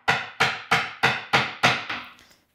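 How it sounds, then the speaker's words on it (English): A chisel driven by a mallet into a wooden board during dovetail and tenon work, struck six times in an even, sharp, loud rhythm, followed by a fainter tapping as the blows trail off. "So I have to like drift the chisel back into the cut."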